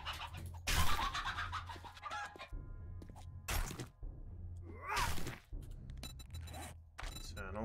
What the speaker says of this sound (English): I can just chase you down, Mr. Chicken